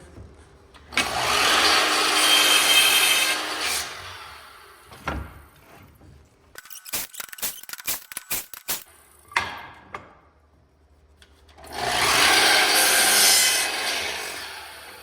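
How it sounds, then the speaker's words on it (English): A saw cuts a squared wooden board into lengths for stool tops: loud rasping passes at the start and the end, with a quick run of short, sharp strokes in between and no talking. "I'm going to start cutting this into lengths."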